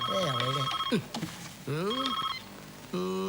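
A telephone rings in a comedic Telugu film scene with a shrill, repeating tone in bursts, layered with background music and voices.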